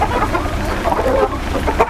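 Fancy chickens, silkies among them, cluck on a farm in Shajahanpur, Bogura. Many birds sound at once in a dense, continuous chatter over a steady noisy background.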